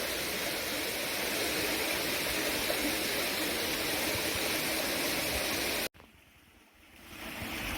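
Steady rushing water from a mountain valley stream and waterfall flowing around rocks on a hiking trail fills most of the recording, then abruptly drops to a quieter wash with a brief low thump.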